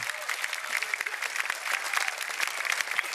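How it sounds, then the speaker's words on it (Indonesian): Open-mic stand-up comedy audience applauding, a dense, steady wash of many hands clapping at a moderate level that carries through the whole moment without a break. "Terima kasih ya, tepuk tangannya."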